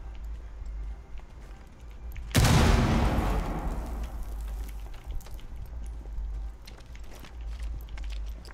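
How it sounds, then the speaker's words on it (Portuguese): A frag grenade going off in the tactical shooter Rainbow Six Siege: one sudden heavy blast with a long rumbling decay, standing out over low steady background noise with no talking. "Granada frag neles."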